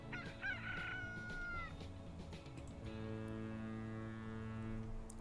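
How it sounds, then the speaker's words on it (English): Chicken-like clucking and crowing from a click sound in the train simulation game Transport Fever 2, heard over steady in-game ambient tones with a short higher call early on and a sustained harmonic layer, no talking. "Why does that make a chicken noise as well when you click on it?"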